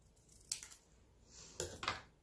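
Scissors snip paper for a craft journal in a few short, crisp cuts, one isolated snip followed by a quick pair a second later, close and otherwise quiet.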